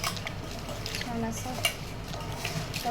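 A small spoon stirs salt through homemade pickle ingredients in a bowl, giving continuous soft scraping and clinking with faint sizzle-like rustle, close and moderately quiet.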